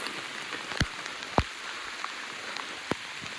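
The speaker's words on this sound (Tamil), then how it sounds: "எங்கே பார்த்தாலும் மழையாக இருக்குது" Rain falls steadily in a Western Ghats forest, a constant broadband hiss with a few louder drops striking nearby, no voices.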